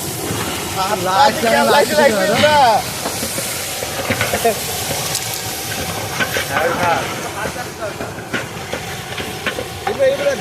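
Bay leaf dropped into hot oil with frying whole spices, cumin, chili and onion in a pan, giving a steady sizzling hiss throughout, with speech over the top.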